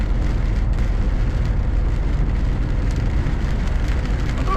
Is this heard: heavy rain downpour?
yes